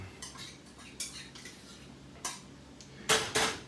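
A utensil scrapes lime juice into a pan while shrimp and bacon scampi is being made, giving a few short, sharp metallic scrapes and clinks separated by quiet gaps, with the last two the loudest.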